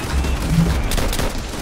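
Chaotic battlefield gunfire in Call of Duty: World at War, with a loud, continuous wash of shots and booms filling the short moment.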